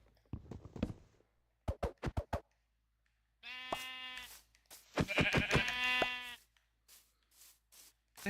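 Video game sheep bleat in a Minecraft-style world, with several clear, loud, separate calls. Short clicks and taps sit between them, and nobody speaks.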